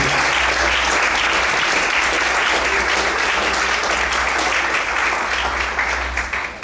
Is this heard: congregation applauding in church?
yes